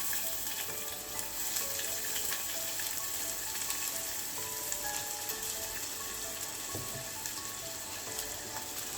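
Onion sautéing in a pan for pink cabbage poriyal gives a continuous, even sizzle with faint stirring scrapes underneath, close and steady throughout.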